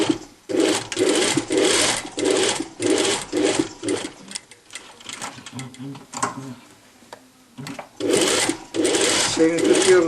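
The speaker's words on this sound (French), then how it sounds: "Une surpiqûre, nervure, de là, de la pointe là où on a fait la couture." A sewing machine runs topstitching around a blouse collar in loud close bursts of rapid mechanical chatter that stop and start, with someone talking during the pauses.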